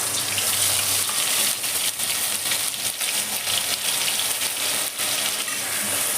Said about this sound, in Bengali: মশলাটাকে তেলের মধ্যে আমি খুব ভালো করে নেড়ে দিচ্ছি। প্রচণ্ড ছিটকাচ্ছে একটু